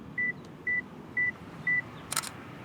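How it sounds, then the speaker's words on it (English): A camera's self-timer gives four evenly spaced, sharp electronic beeps, then the shutter fires with a crisp mechanical click, all close and clear over a quiet background. "I don't particularly like the beeper"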